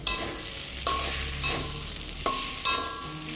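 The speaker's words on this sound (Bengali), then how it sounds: "নারকেল দেওয়ার পর আর একটু ভালো করে কষাচ্ছি" Elephant foot yam curry with coconut being stirred and fried in a pan, a close continuous sizzle broken by four sharp spatula scrapes at a slow, regular pace, with no voices.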